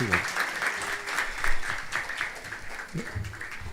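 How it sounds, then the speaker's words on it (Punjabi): Audience at a Punjabi conference event in Brampton, Canada, applauding the actors of a street play with steady, sustained clapping, while a voice speaks over it. "ਸਾਡੇ ਕਲਾਕਾਰਾਂ ਲਈ ਜ਼ੋਰਦਾਰ ਤਾੜੀਆਂ"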